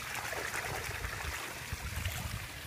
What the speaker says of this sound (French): et je vais le rincer